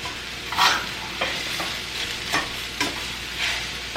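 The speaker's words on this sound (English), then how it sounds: "Let's cook the rest of that beef." Ground beef sizzles in a hot pan with a little salt while a spatula stirs and scrapes it in several distinct strokes, steady frying hiss underneath, close and clear with no talking.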